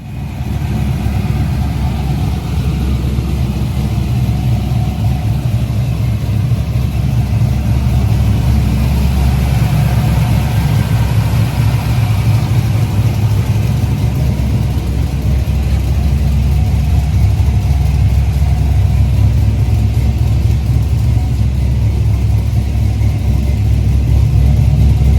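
A Nissan S14 240SX with an LS engine swap runs on a test drive, giving a loud, continuous low engine rumble that holds steady throughout.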